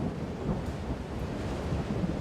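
Heavy rain from a cyclone that has weakened inland into a huge rain depression, a steady dense roar of downpour with rumbling thunder-like low noise, loud and continuous with no talk.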